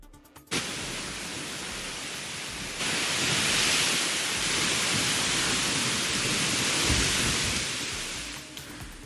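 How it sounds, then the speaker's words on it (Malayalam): Heavy rain and strong wind in Kerala make a dense, steady roar that rises after a brief start and holds loud and continuous throughout. "സംസ്ഥാനത്ത് വിവിധയിടങ്ങളിൽ അതിശക്തമായ മഴയും കാറ്റുമാണ്."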